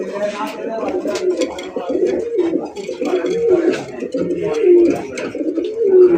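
Pigeons coo repeatedly at close range, low rounded rolling calls rising and falling in an uneven rhythm, overlapping one another with some rustling in between.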